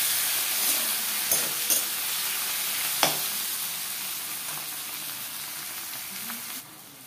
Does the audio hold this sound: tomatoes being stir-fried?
yes